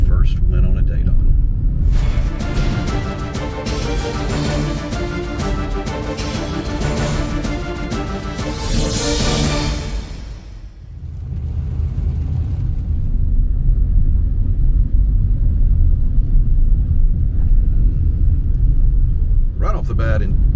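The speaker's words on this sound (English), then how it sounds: "we're driving in a taxi to the other side of Roatan" Taxi ride on a Roatan, Honduras road: a steady low engine and tire rumble inside the car, with a louder, busier stretch early on giving way to a deep, constant drone.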